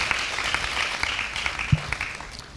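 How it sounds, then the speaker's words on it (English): Applause from the audience at a senior school debate final, a broad steady clatter of clapping that holds for a few seconds and then eases off slightly toward the end. "let's appreciate the finalists one more time with a round of applause"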